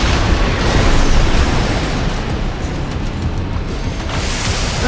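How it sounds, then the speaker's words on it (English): Assault armor detonation in Armored Core 6 during an online arena fight, a loud, sustained roaring blast that fills the whole stretch and slowly settles, with no voices. "I've already detonated my assault army there"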